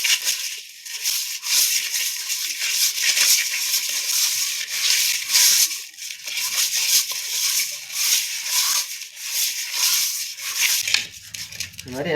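Repeated gritty scraping and rubbing as murrel fish is scrubbed with rock salt, coarse and rhythmic, close up, with some faint talk in the background.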